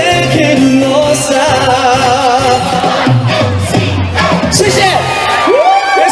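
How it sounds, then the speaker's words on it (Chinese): A festival concert crowd at a Lantern Festival celebration in Yangmei screams, cheers and whoops loudly and continuously, with a performer's amplified voice speaking over the noise. "尖叫声"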